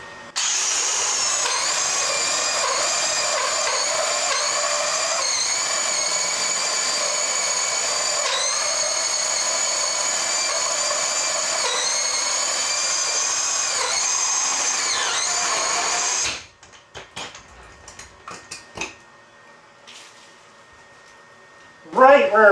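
A power drill bores up into a ceiling for about sixteen seconds, a loud steady whine with pitch dips as the bit bites, then stops abruptly; scattered handling clicks and rustles follow, with a brief voice at the very end.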